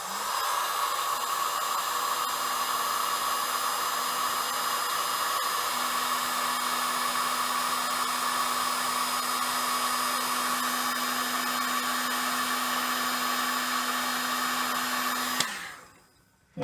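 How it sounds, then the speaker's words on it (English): A heat gun blows hot air steadily to warm a part, a loud continuous whooshing whine with a fixed hum that runs unbroken, then cuts off abruptly near the end. "We'll see what happens when I use the heat gun to warm that part up."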